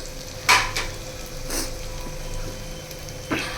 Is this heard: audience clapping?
no